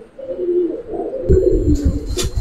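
Pigeons kept at a home loft coo nearby, low throaty rolling calls repeating through a short stretch, with some faint rustling and a brief higher chirp toward the end.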